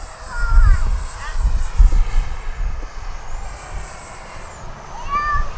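An Arrows Marlin RC model airplane takes off into the wind with takeoff flaps set, its electric motor whining in a rising then falling pitch as it passes, under loud wind noise with someone talking.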